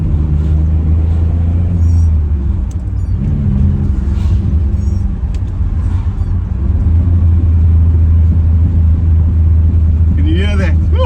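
A 1982 Maserati Merak's engine rumbles loud and close from inside the cabin while cruising through the gears, a deep steady drone that swells near the end under a brief rising whine.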